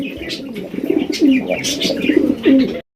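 Pigeons coo nearby, repeated low throaty coos in a steady rhythm, mixed with soft chirps from other birds.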